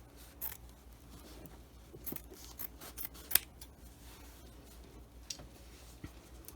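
Scissors snipping through cotton fat-quarter fabric while cutting pieces for a child-size face mask, quiet scattered snips and short cuts at close range in a calm room, with no talking.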